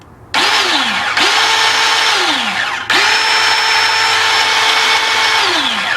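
A DeWalt DCS370 cordless bandsaw runs after a blade change, its motor loudly spinning up twice with rising whines that settle into a steady high-pitched drone, close and continuous, with no talk.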